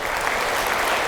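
Church lecture audience clapping together, a dense, steady burst of applause filling the short moment.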